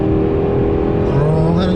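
A Renault Samsung SM6 midsize sedan revs with its sport sound mode switched on, a loud, steady engine drone rising in pitch toward the end, heard from inside the car.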